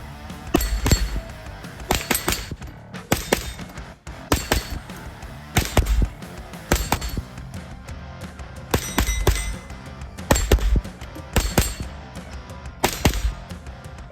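Repeated sharp reports from a JP-15 Ultralite .22 rifle fired left-handed at a range, about a dozen shots in clusters with short pauses, close and loud.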